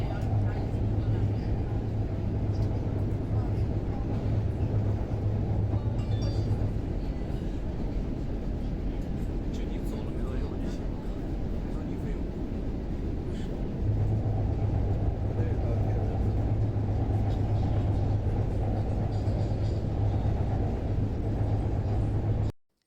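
Inside a metro train riding through Nanjing, China, a steady rumbling ride noise with low hum and rattles continues throughout, loud and close, with faint passenger murmur in the background.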